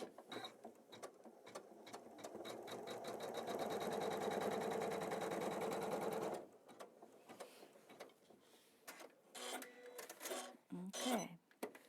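A home embroidery machine sews a piece 5 placement line in a machine embroider-by-number Christmas tree project, its rapid needle chatter steady and close. A voice speaks partway through, then the run ends and quieter handling noises and brief talk follow.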